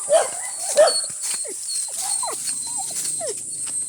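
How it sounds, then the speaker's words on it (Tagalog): A dog close by gives a series of short, high yelping barks and whiny yips, several in quick succession and then more spaced out, over a faint steady background hiss. "Yung aso nila tumatahol."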